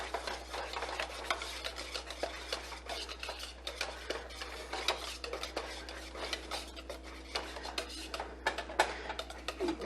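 A whisk scrapes and stirs steadily through thick polenta as cheese is folded in, quiet rhythmic rasping against the pot, close and alone without talk.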